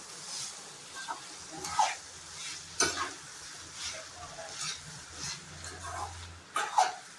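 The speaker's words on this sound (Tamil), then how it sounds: "மூணு நிமிஷத்துக்கு மூடி வச்சுக்கலாம் நல்லா வதங்கட்டும்" Eggplant chutney ingredients sauté in a pan, with a soft, low sizzle broken by several sharp stirring clatters and scrapes at uneven intervals, and a faint low hum or murmur underneath.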